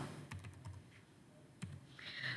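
A handful of light keystrokes on a computer keyboard, sparse soft taps spread unevenly over a couple of seconds, close and quiet with no speech.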